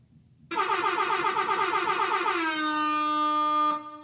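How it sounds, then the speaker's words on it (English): A loud, blaring air horn blast sounds close by, pulsing at first and then holding a steady tone for about three seconds before cutting off. "One more air horn."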